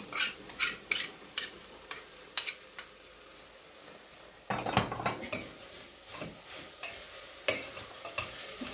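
A spoon scrapes and clinks against a pot while tomato paste is stirred into cooking meat, with rhythmic metallic knocks over a faint sizzle and a louder burst of stirring midway.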